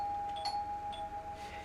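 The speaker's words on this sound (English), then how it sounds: "A doorbell." A modded doorbell in the ARK video game chimes with a short, clear electronic ding over a faint background hum, heard once and alone.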